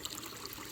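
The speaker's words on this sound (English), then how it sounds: "when it comes down, it kind of just splatters everywhere" Water splatters down into a backyard DIY pond, a steady, faint trickling and dribbling that continues evenly without pause, with no voices present.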